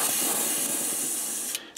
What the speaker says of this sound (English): Just give it a nice even coating with the opaque black, just to get it good and covered.